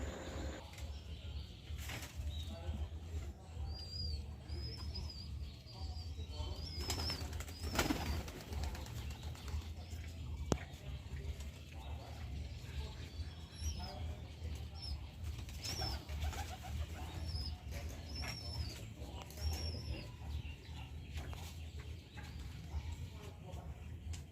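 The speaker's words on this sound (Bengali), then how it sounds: "এখান থেকে একটা পায়রা খেয়ে গেল এখন ওর বাচ্চাটাকে আবার খাওয়াচ্ছে" Pigeons coo softly and repeatedly, with occasional wing flutters and faint high chirps from a young bird being fed, while a voice talks at times in the background.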